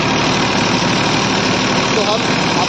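A Massey Ferguson tractor engine runs steadily in a sugarcane field during leaf mulching, a loud, continuous broadband drone that holds without a break throughout.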